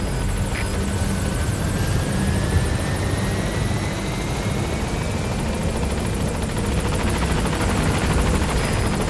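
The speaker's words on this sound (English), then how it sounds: "Go ahead and call the chopper from your iDroid." Helicopter in Metal Gear Solid V coming in to a landing zone, a loud steady rotor and engine drone with rising whine that holds unbroken throughout, no voices.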